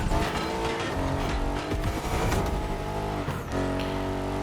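A Mercedes AMG GT63 in The Crew Motorfest slides with oversteer, its engine roaring loud and steady with tire squeal layered over the continuous drive.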